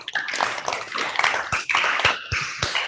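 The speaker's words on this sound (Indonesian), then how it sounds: "tepuk tangan buat kelompok" Children in a classroom clap for a group, a dense, irregular patter of many hands, sharp and fairly close, lasting a few seconds.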